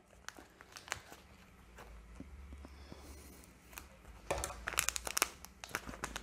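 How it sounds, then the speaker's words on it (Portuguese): Plastic piping bag crinkling and rustling as it is handled and snipped with scissors, soft close crackles building to a louder burst of crinkles near the end. "vou cortar um pouquinho mais a minha manga"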